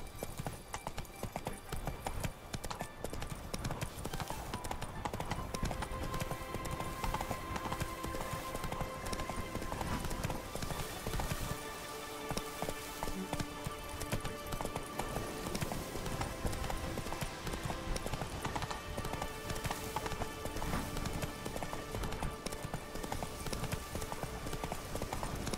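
Roach the horse gallops through The Witcher 3, hooves clip-clopping in a steady rhythm under a layer of game music and ambience that lasts the whole stretch.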